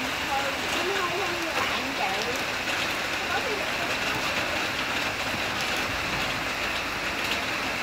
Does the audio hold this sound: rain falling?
yes